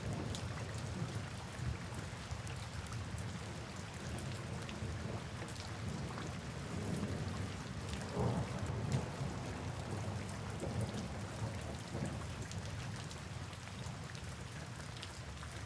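Steady rain falls at night, a soft continuous patter on surfaces with low rumbles of distant thunder rolling underneath throughout.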